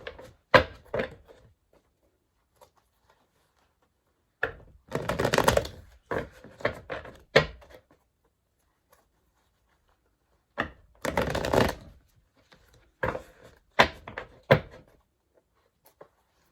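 Tarot cards are shuffled and drawn by hand, producing soft, close riffles and papery flicks in scattered bursts with quiet gaps between them.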